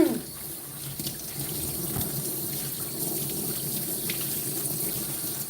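Running water rinses a dog during grooming, a steady spray and splash from a tap or hose that starts with a gush and then flows evenly at close range, no voices.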